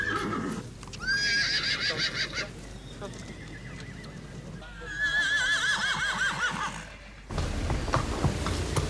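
Horses at an Irish racehorse stud farm neigh and whinny in long, loud calls, with hoof clip-clops and goose-like honking mixed in, heard close with a brief sharp break near the end.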